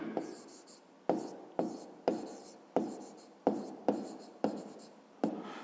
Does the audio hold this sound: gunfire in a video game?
no